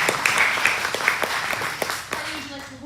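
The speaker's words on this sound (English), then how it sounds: "Can everyone give our young artists a round of applause?" A school audience claps for young artists, a steady patter of applause with a few sharper individual claps, voices and a tonal sound rising near the end.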